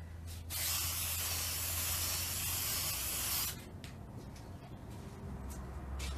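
A clear gloss spray can hisses in one steady three-second burst onto a handmade card, close and loud, then gives way to quiet room tone.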